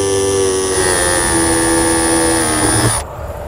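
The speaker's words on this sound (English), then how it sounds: "we're going to make a small pilot hole with a 1/16 inch drill bit" A power drill with a 1/16 inch bit bores a small pilot hole into the hood of a 2020 Jeep Grand Cherokee, whining loudly and steadily up close before abruptly stopping near the end.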